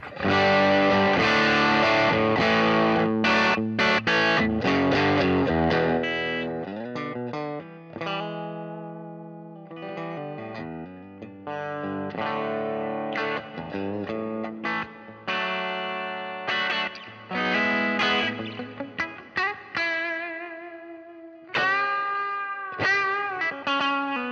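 Electric guitar played through a Boss Gigcaster 8 simple tweed effects preset with reverb and light gain, giving strummed chords and single-note phrases that ring out and decay between passages.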